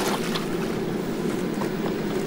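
Water is poured in one steady, sloshing gush onto a camper trailer's rooftop air conditioner, close and loud, with no talk over it.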